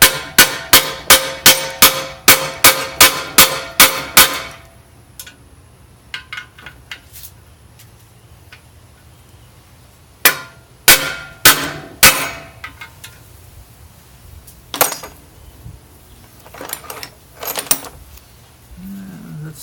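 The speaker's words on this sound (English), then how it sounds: "Smack it home with a hammer." A run of sharp metallic hammer blows driving a bearing into a Getrag 5-speed transmission, about ten in quick even rhythm, then a pause and scattered heavier strikes and clanks, close and loud.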